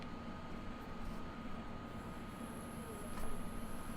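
German ICE-T train standing at a station in Train Simulator 2017, a steady low rumble and hum with faint high whine and a brief swell near the end, no talking.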